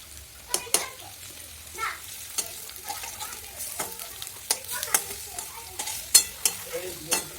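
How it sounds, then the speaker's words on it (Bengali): Lentil fritters (bora) fry in a scorched wok, a crackling sizzle broken by frequent sharp taps and scrapes of a utensil against the metal, close and busy throughout. "বড়া ভেজে দিচ্ছি।"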